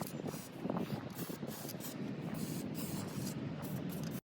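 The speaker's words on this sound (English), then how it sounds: "Spray some WD-40 and let it soak for a while." A steady hiss of WD-40 sprayed from a can onto seized bolts on a 2002 PT Cruiser, continuous and close for several seconds before cutting off abruptly.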